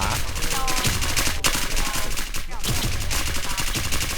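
Rapid video game gunfire, sustained automatic bursts crackling loud and close in a continuous barrage, with a voice talking briefly beneath.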